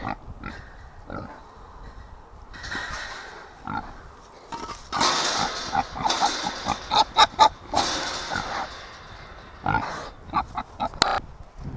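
Pigs grunt and oink repeatedly at close range, the snorts growing louder and busier midway through, with shuffling and rustling around them.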